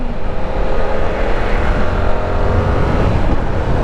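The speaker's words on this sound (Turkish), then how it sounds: "Makine sesi beni tatmin ediyor şu anlık." A motorcycle engine drones steadily up close, a low, continuous rumble with slight swells in pitch as it revs, no voices over it.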